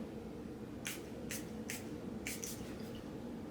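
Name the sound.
makeup setting spray being sprayed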